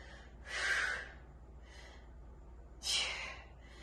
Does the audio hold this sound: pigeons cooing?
no